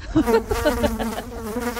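Flies buzz close around a cow, a loud, continuous droning whine that wavers in pitch as the insects circle, with no speech.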